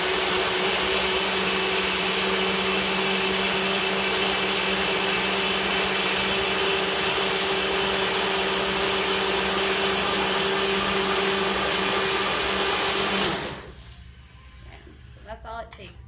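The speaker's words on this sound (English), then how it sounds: "the way this blender works is we just screw the top on, turn it over, all of our ingredients are inside, and this is going to be loud" A blender liquefies Purple Rain smoothie ingredients with a loud, steady, close motor roar lasting about thirteen seconds, then cuts off abruptly, leaving quiet handling sounds and light clatter.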